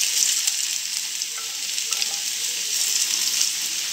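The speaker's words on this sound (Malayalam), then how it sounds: "ഇവിടെ എണ്ണ ചൂടായി വന്നിട്ടുണ്ട്. അതിലേക്ക് നമ്മൾ വേവിച്ച് വെച്ചിരിക്കുന്ന ഉരുളക്കിഴങ്ങ്" Boiled potatoes dropped into hot coconut oil in a pan, giving a steady, loud, close sizzle and hiss that holds evenly throughout with no talk.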